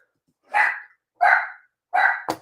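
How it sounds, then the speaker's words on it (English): A dog indoors barks three times in quick succession, sharp, loud and close, evenly spaced with a brief yip or knock at the end, and nothing else around. "Also, my dog is gonna be annoying."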